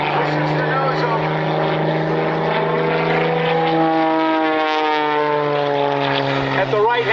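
A propeller airplane flying aerobatics at an air show, its droning engine loud and steady with a pitch that slides down and back as it maneuvers, while an announcer talks over it.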